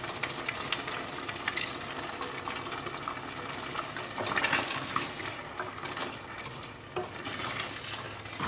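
Water from a container is poured into a pot of Goan beef curry in green masala, giving a continuous splashing, bubbling wash of liquid hitting the simmering gravy, steady and close without any talking.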